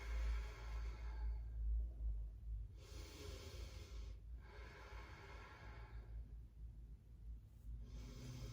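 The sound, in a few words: slow breathing out during yoga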